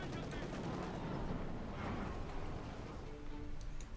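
Anti-tank rifle fire crackles through a Company of Heroes 2 battle, dense repeated gunshots layered over rumbling combat and a commentator's voice talking throughout.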